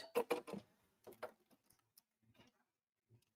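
An embroidery machine stitches out a placement line: quick, light mechanical ticks and taps come in short bursts, quiet and close, with pauses between runs.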